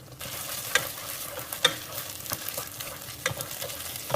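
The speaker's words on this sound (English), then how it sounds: "Let the rosemary cook down a little bit." Rosemary fries in a pan, a steady sizzle broken by several scraping stirs and utensil knocks at uneven intervals, close by.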